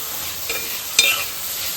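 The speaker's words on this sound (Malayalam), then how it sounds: "നമുക്കതിലേക്ക് ഉള്ളി ഇട്ട് കൊടുക്കാം, സവാള. കുറച്ച് ഉപ്പൂടി ഇട്ടിട്ട് നന്നായിട്ട് ഇളക്കി കൊടുക്കാം." Sliced onions with a pinch of salt sizzle in a pan for prawn biryani, a short close frying hiss broken by two quick scrapes of a stirring spoon.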